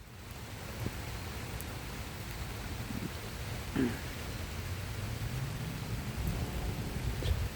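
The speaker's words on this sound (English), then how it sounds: "now all the rain is coming down faster and harder, as we're getting heavier rain as to be expected from the storm" Heavy rain pours steadily during a Tuesday storm, a dense continuous wash with a low rumble of thunder rolling underneath and swelling briefly near the middle.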